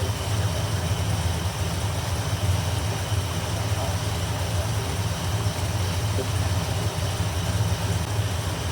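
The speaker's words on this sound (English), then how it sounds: "So this thing is only idling at about, this thing's only idling at about 700." The engine of a 1978 Ford Bronco idles at about 700 rpm with a carburetor running poorly, giving a loud, steady, low rumble that stays continuous and even throughout.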